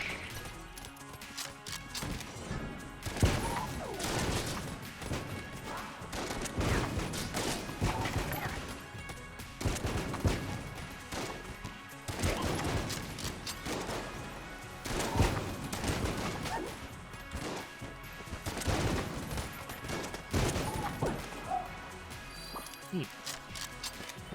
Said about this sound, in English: Listen to these lovely explosions.